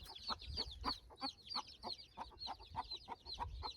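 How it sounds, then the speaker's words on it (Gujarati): Hen with chicks clucking in a village farmyard, a quick run of close, repeated short clucks and soft chirps, fairly quiet with no talk. "તો આ પહેલી કુકડી"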